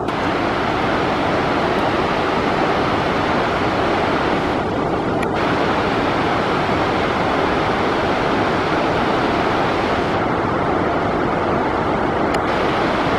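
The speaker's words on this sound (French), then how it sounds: "Ouais, on a une belle cascade." A mountain waterfall near the Ailefroide glacier rushes in a loud, steady broadband roar. The flow stays continuous and close throughout, with some wind buffeting at the microphone.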